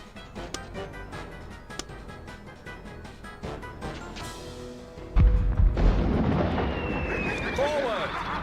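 Artillery fire in the fantasy strategy game Warhammer: Dark Omen, a heavy cannon boom landing midway, followed by sustained crackling rumble and battle noise, with game voices around it.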